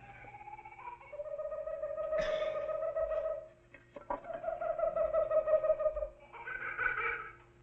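A man imitates a loon's call at night in a 1950s TV drama, with long wavering hoots and tremolo phrases in several drawn-out bursts, quiet and alone against a faint low hum.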